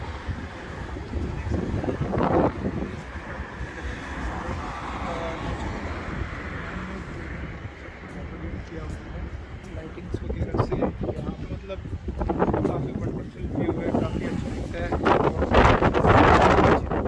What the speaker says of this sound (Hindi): सुन सकते हैं हवा के साउंड को जितने तेज़ हवा चल रही है।